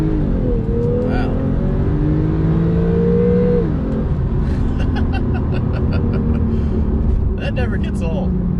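Porsche 991.2 Carrera engine accelerating on the road, a loud continuous engine roar that climbs in pitch through the gears before settling, with a person talking over it partway through.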